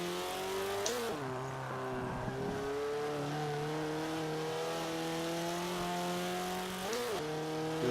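A 1.6-litre C-Class car's engine revs hard in a racing video game, a loud sustained whine climbing through the gears with brief dips at shifts and tire scrub, close and constant throughout.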